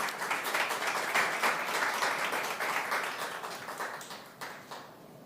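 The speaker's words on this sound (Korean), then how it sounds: "박수로 환영해 주시면 감사하겠습니다." Sustained applause from a crowd at a South Korean political party candidate vision presentation, dense and even, gradually fading toward the end.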